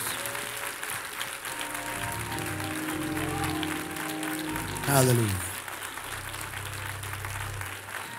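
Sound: congregation clapping hands in church

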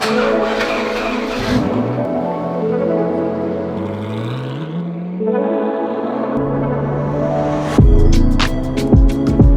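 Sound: loud yellow car driving

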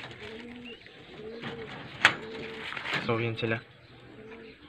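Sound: pigeons cooing, young racing pigeons

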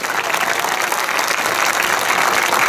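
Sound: football supporters applauding player Yabuzaki

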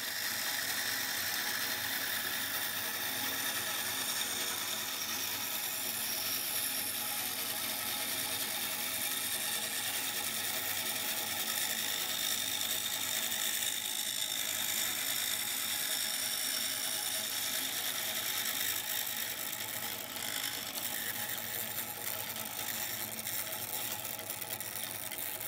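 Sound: bandsaw with thin blade cutting plywood

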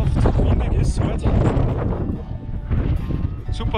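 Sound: wind on a mountain summit during ski tour

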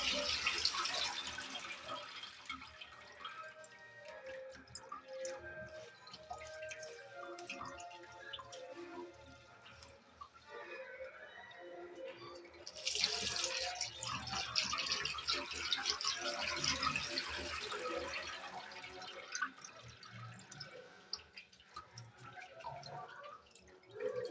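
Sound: washing jute leaves under running tap water

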